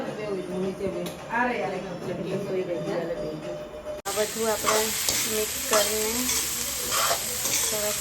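Boiled potato mixture stirred and cooked in a pan for Gujarati tacos, scraping and sizzling steadily at close range with a voice talking over it throughout.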